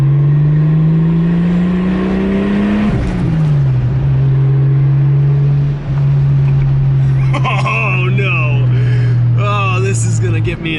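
A Toyota Supra with a loud aftermarket exhaust idles with a deep steady drone, then blips and revs with rising and falling pitch sweeps near the end, up close and loud.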